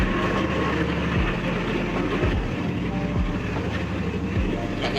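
Steady rumble of a commuter train riding in the economy coach just behind the locomotive, with a continuous low drone and periodic soft thumps from the wheels passing rail joints, heard from inside the carriage.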